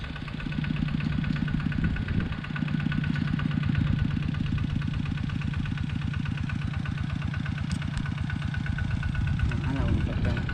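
A mid-pitched tractor engine chugs steadily and rhythmically nearby while plowing a rice field, with brief voices underneath at moments.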